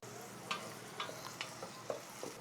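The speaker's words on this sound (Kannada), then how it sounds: "ಈರುಳ್ಳಿ ಒಂದ್ಸರಿ ಹಾಕ್ಕೊಂಡಾದ್ಮೇಲೆ ಪೂರ್ತಿಯಾಗಿ ಸಾಫ್ಟ್ ಆಗಿಬಿಡ್ಬೇಕು, ಅಲ್ಲವರೆಗೂ ಈರುಳ್ಳಿನ ಫ್ರೈ ಮಾಡ್ಕೋಣ." Chopped onions frying in a pan for veg biryani give a soft, steady sizzle, broken by a few light clinks as they are stirred every half second or so.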